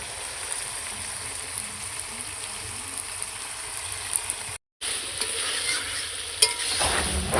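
Chicken pieces and tomatoes fry and get stirred in a pan, a steady close sizzle and scraping hiss that continues with only a brief silent break, with no talking.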